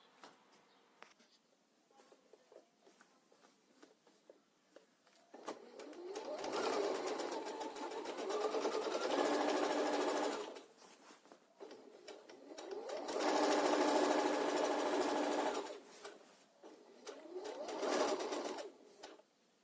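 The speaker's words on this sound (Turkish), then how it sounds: "Düz dikişle burayı da dikeceğim arkadaşlar." A sewing machine runs in three bursts, stitching a straight seam on a pillow. Its fast, steady mechanical whir is close and clear, with quiet handling noises in the pauses.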